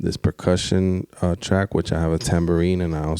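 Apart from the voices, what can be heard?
None of the usual background noises is heard.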